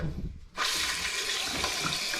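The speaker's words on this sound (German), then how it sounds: "Lass mal hier Badewanne Wasser laufen." Water runs steadily from a bathtub tap in an old-building bathroom during drain cleaning, a broad constant rushing that starts abruptly after a brief quiet moment and continues alone.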